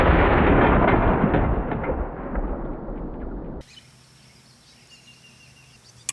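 A heavy S&W Magnum revolver shot into a ballistics gel block outdoors: a loud, booming blast that rolls and fades over about three seconds, then cuts to quiet open-air ambience with a faint tap at the end.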